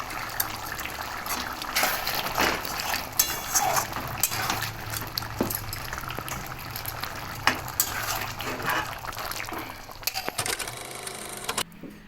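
Fried prawns being stirred into a pointed gourd (potol) curry, with steady sizzling and repeated metal spoon scrapes and clinks against the pan, close and continuous with no talking.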